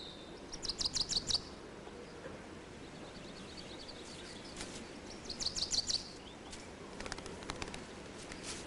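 Small birds near a skull in a wildlife setting give three short bursts of rapid high chirps, separated by quiet, hushed outdoor ambience.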